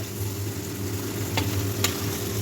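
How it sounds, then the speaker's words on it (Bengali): Chicken for Afghan chicken frying in a pan, giving a steady close sizzle over a low hum, with two quick scraping stirs near the middle. "আমাদের চিকেন মোটামুটি ভাজা কমপ্লিট হয়ে গেছে"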